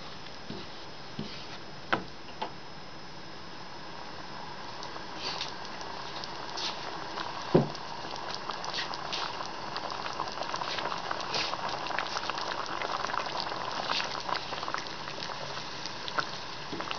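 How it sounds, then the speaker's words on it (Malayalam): A spicy egg and potato curry with boiled eggs bubbles in a pot on the stove, a steady close simmer of soft popping and pattering with a few sharper blips. "നമ്മുടെ എഗ് പൊട്ടറ്റോ കറി നന്നായിട്ട് തിളച്ചിട്ടുണ്ട്."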